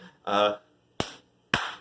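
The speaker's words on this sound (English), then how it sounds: "I know that was a lame-ass clap that I did" Two sharp hand claps about half a second apart, close and fairly loud, each with a quick decay, after a short voiced sound at the start.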